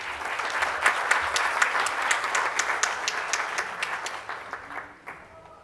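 Steady, dense applause from an audience at a civil society and democracy conference welcomes a speaker, loud and sustained before tapering off toward the end.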